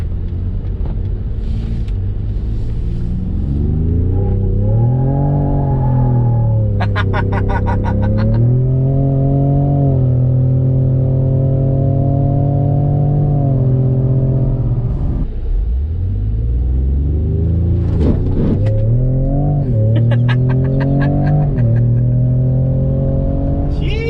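An upgraded 2020 Ford F-150 Raptor revving hard up close, its deep engine rumble surging and falling in repeated throttle blips, with a quieter idle gap between bursts.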